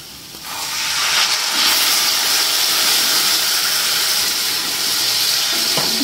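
Water poured into a pan of browned onions bursts into a loud, sustained steamy hiss that starts about half a second in and carries on evenly to the end, with faint clinks and no talking.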